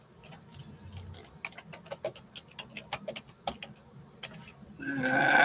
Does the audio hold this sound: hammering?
no